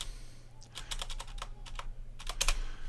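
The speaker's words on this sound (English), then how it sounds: "So all you have to do is just type in PancakeSwap, like so." Quick run of crisp computer keyboard keystrokes, close and distinct, tapping out a short word over a faint low hum, with no talking.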